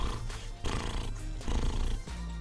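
A person's voice mimics a Pokémon spitting a rapid stream of seeds in Bullet Seed, coming out as a continuous rumbling, purr-like buzz lasting a couple of seconds, loud and close with no clear breaks.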